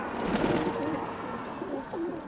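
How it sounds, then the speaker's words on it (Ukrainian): A pigeon coos softly in low, rolling calls, repeated a few times against a quiet background. "Я думаю, що це голуб."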